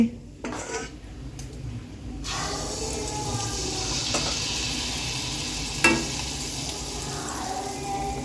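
Pitha frying in hot oil, a soft continuous sizzle rising after a quieter opening, with a few clinks of utensils against the pan and a sharp tap midway.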